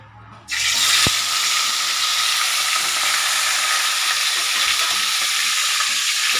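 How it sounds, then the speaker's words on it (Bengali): A fish head drops into hot oil in a pan and erupts into a loud, dense, continuous sizzle that holds steady throughout, close and without any voices. "আর সবার প্রথমে আমি মাছ ভেজে নেব, মাছের মাথাটা"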